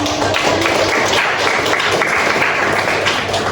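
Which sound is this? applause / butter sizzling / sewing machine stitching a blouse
applause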